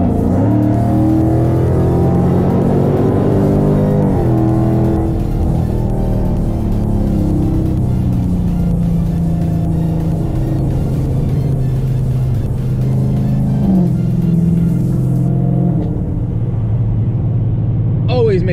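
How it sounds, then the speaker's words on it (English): A Dodge Charger 392 with an FBO CAM setup accelerates at wide open throttle from about 67 mph, its engine roaring loud and close with a layered rising drone that holds strong throughout. "So we're going about 67 and just wide open throttle."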